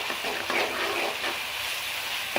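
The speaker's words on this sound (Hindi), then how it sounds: "अब हम इसमें अदरक और लहसुन का पेस्ट डाल के इसको मिक्स कर लेंगे।" Ginger garlic paste fries with onions in a pan, a steady close sizzle with soft scraping of stirring running throughout, no voices.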